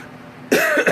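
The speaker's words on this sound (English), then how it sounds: "I have a little bit of a cough still." A single sharp cough bursts out after a quiet room tone, close and fairly loud, with a brief second hack at the end.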